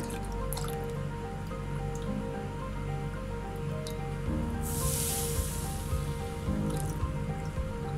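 Hot oil pours into onion vada batter in a short hissing splash midway through, over a steady low hum with faint drips before and after.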